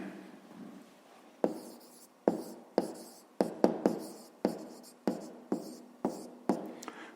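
Pen strokes writing out the answer to a fifth-grade math exercise, a dozen sharp scratching taps in an irregular rhythm, close and clear with no talking.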